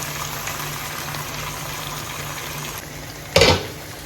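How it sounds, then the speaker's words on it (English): Water poured into a cooking pot while preparing Jamaican steam fish: a steady, fairly quiet gushing wash that runs throughout, ending in a brief louder splash near the end. "And we're adding a little water."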